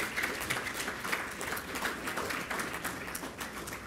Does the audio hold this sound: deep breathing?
no